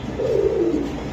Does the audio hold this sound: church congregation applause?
no